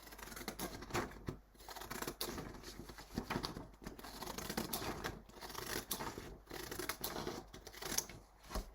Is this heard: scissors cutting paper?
yes